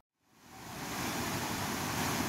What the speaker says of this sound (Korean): 장마로 인해 불어난 개울물